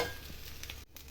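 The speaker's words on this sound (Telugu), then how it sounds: "ఇది దానిలో మొత్తం కంప్లీట్గా ఇలా మిక్స్ చేసేసుకోండి." Cooked rice being stirred into a tomato and mint mixture in a hot pan, a soft scraping and sizzling texture that is faint and brief, with no voices.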